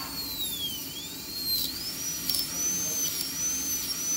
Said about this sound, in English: Always keep your handpiece parallel to the long axis.